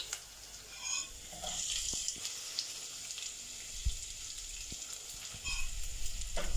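Two large chopped onions frying in a pan for tomato rice, a low steady sizzle with occasional stirring knocks and scrapes, close and quiet.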